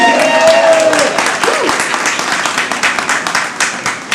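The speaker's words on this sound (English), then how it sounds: "applause?" An audience applauds at a leadership gala honoree introduction, a dense, steady patter of many hands clapping that trails off slightly as a voice begins over it.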